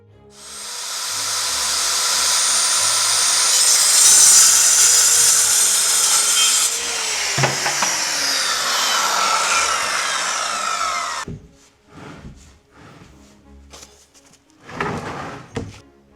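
Power saw cutting through a 22mm tongue and groove floorboard during a room renovation, a loud sustained whining rasp for about eleven seconds, then fainter knocks and handling clatter as the board is fitted.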